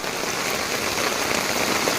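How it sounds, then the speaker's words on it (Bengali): Heavy monsoon rain pouring outdoors, a dense, steady, loud patter on surfaces all around with no pauses. "তো বৃষ্টি হচ্ছে দেখুন কি পরিমাণ বৃষ্টি হচ্ছে চারিপাশে"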